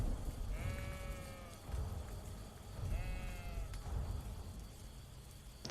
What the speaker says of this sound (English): Then you hear a distant bleat.